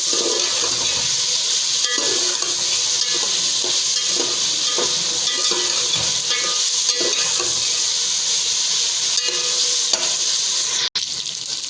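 Ingredients sizzle steadily in a hot pan with red chili powder while being sautéed for penne pasta, a loud continuous frying hiss with occasional stirring scrapes and a brief break near the end.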